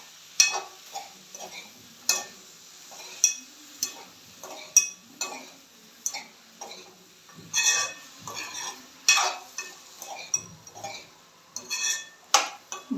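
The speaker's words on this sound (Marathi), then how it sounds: "भाजी परतून घेते आहे, ढवळून घेते आहे म्हणजे सगळी फोडणी भाजीला लागेल." Mixed vegetables with hyacinth beans are stirred and sautéed in a pan with tempering, a spoon scraping and clinking against the metal in regular strokes about once a second over a faint sizzle.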